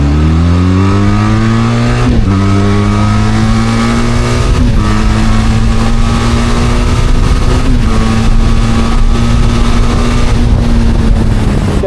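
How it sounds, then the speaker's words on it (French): A trail motorcycle engine runs steadily close by, a loud low drone with a few brief blips of the throttle that shift its pitch. "Je vais vous faire écouter un peu le bruit de la moto."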